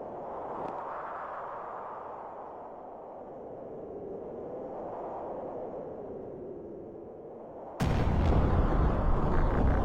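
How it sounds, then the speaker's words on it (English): A deep, rumbling explosion in a video game, a long low roar that swells and fades for several seconds before a sharper, louder burst of crackling noise near the end. "What was that? An explosion?"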